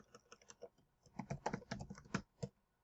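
Keys clack on a computer keyboard as a chart title is typed into an Excel spreadsheet, a quick run of close, crisp taps followed by a denser burst with a short pause between.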